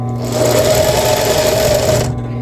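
A sewing machine runs steadily for about two seconds, stitching elastic onto a bra with a half-centimetre seam allowance, a loud, continuous mechanical whir that stops abruptly near the end.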